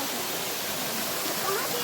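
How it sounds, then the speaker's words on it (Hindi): Waterfall flowing beside Mara cave, a steady, dense broadband rush of falling water with no breaks, close and continuous from start to finish. "ये है वो माड़ा गुफा के पास बहता हुआ झरना।"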